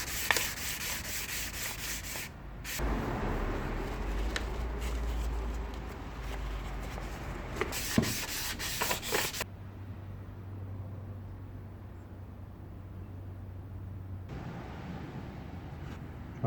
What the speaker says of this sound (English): I'm just going to give that a quick sand as well.